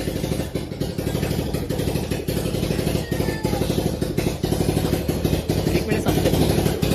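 A Royal Enfield motorcycle idling loudly, a steady rapid thumping beat running throughout, close by, with people talking over it.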